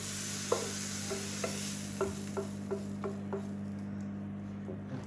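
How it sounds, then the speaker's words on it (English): Soup ingredients for a homemade tomato soup are stirred in a pot, giving a run of soft, irregular scraping knocks over a steady low hum, with faint sizzling underneath. "Stir it around."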